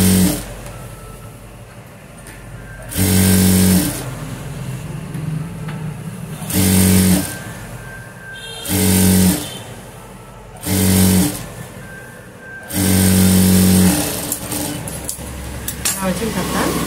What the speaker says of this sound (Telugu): స్టిచ్ చేసుకుంటూ అలా స్టిచ్ చేసుకుంటూ నిదానంగా షేప్లో మొత్తం ఒకేలా రావాలన్నమాట.